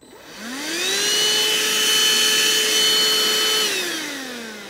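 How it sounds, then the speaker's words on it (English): The handheld battery portion of a cordless vacuum cleaner spins up to a steady, close, high motor whine, holds it evenly for a few seconds without cutting out, then winds down. "This thing continues. I just vacuumed part of my garage with it."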